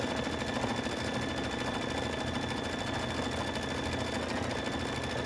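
A Luminaire embroidery machine stitches steadily, a continuous close mechanical whir with rapid needle rhythm running evenly throughout, no voices.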